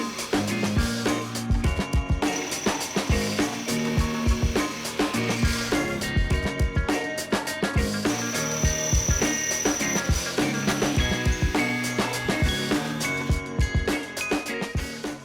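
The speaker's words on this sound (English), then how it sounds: "I drill out the holes on the patch panel for the spot welds." Bursts of a high-pitched power drill biting into a sheet metal patch panel for a Mazda MX5 Miata quarter panel, repeated in short runs with whining tones and metallic clatter between them.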